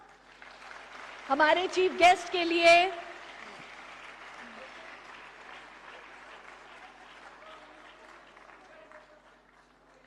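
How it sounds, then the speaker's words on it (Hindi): Applause for the chief guest at the inaugural session of Yoga Connect 2025, held by India's Ayush ministry during a felicitation. A sustained wash of crowd clapping runs throughout, with someone speaking over it near the start. "जोरदार तालियां"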